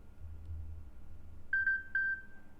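A Samsung Galaxy S24 FE ringtone preview plays a short, faint run of electronic beeps, three quick tones ending in one held note, heard alone over a quiet background.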